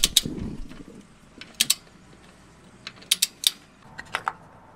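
Bolts being nipped up with a ratchet while fitting a gearbox to an RB25 engine in a C34 Stagea, quiet sparse clicking bursts of ratchet pawl ticks in short groups, close and with no talking.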